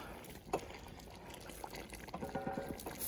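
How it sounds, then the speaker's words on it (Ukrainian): Water poured into a pot of bograch with potatoes, sloshing and splashing briefly at moderate level with some bubbling and clinks, no speech. "Кинемо картоплю, зальємо води."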